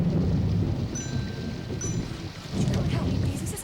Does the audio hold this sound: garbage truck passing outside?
no